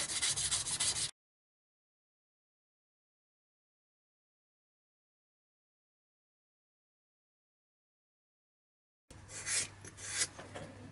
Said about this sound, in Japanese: バリ取り兼ねてね、もう一回サンドペーパーかけまーす